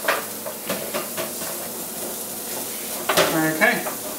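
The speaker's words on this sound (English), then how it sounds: "You can hear those sizzling away there." Close, steady sizzling of fries in hot oil, with a few clinks and a louder burst of crackling toward the end.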